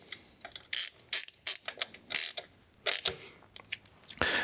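A ratchet tightens bolts on a car AC compressor while installing a Kwik Performance K10675 Wide Mini bracket. It makes short, close bursts of rapid clicking, about a dozen separated by brief pauses, with no talking.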